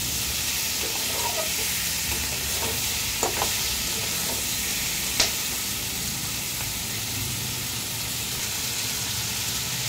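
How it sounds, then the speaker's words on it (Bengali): Mutton stew with vegetables sautéing in a pan, stirred steadily as it fries: a constant, close sizzling hiss runs throughout, broken by a few light scrapes and taps of the spoon against the pan, with no talking. "এবার ভালো করে এটাকে একটুখানি কষিয়ে নেব।"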